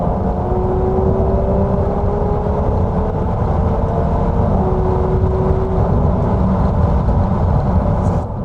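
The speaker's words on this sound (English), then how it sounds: "You do still get quite a bit of road noise, don't you?" Steady, loud tyre and road roar with a low engine hum fills a car cruising at speed, continuous and unbroken throughout with no talking.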